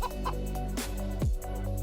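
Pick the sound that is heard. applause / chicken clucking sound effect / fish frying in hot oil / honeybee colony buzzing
chicken clucking sound effect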